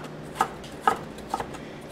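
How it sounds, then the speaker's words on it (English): A knife chops vegetables on a board for raw stuffed peppers, three distinct close thuds spaced roughly half a second apart over faint background hiss. "chop, chop, chop, chop, chop."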